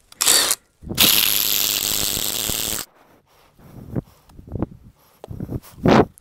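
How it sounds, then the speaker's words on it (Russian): A Ryobi cordless tool drives a spade bit into oak: a brief burst, then about two seconds of loud, steady grinding whir, followed by quieter scraping and handling knocks. "Сверление пером."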